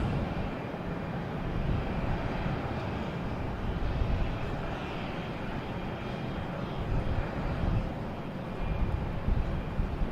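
A JetBlue jet airliner sits lined up on the runway at Boston Logan, its engines giving a steady, moderately distant broadband rumble and hiss that holds evenly for the whole stretch with no talking.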